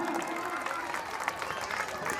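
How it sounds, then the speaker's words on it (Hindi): Loud applause from a crowd at a stage event welcoming performers in a Ramlila-style religious drama, dense continuous clapping with scattered sharper claps standing out, filling the whole stretch. "जोरदार तालियां।"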